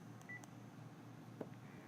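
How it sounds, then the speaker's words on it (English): Keypad tones from a Panasonic KX-TGM450S cordless phone, a few short faint beeps spaced unevenly over a quiet background hum. "you can simply dial the number, then press the talk button"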